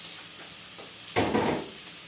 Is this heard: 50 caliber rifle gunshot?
no